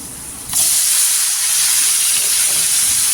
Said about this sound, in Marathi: इथे स्वच्छ धुलेली वांगी टाकून घ्यायची.